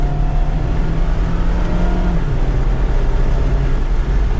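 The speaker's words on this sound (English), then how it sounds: "Pedal to the floor in second gear." Hard wide-open-throttle acceleration in second gear from a 2024 Mazda MX-5 Miata RF Grand Touring with the top down, a loud steady engine drone climbing in pitch and then dipping briefly at about two seconds before pulling on, with no talk.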